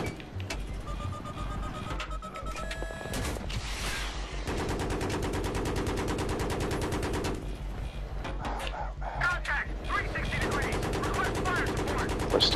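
An attack helicopter fires its guns in the video game Battlefield 3. Dense bursts of rapid automatic fire come loud and close, broken by short pauses.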